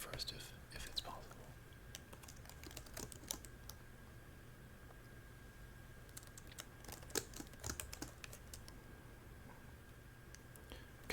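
Soft, close clicking of a computer keyboard comes in scattered bursts and runs of keystrokes against a quiet background, with faint murmured voice between them.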